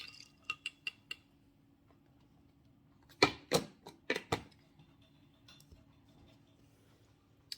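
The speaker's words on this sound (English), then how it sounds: "Give it a stir." A spoon stirs a cup of cordial with ice, giving quiet clinks: four quick taps, a pause, then a denser cluster of louder clinks and a few faint later ones.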